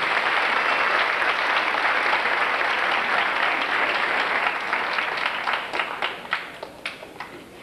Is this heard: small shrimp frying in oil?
no